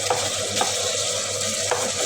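Garlic and ginger sizzling in a hot pan for beef kaldereta, a steady frying hiss with a few scraping stirs of a utensil against the pan, close and continuous.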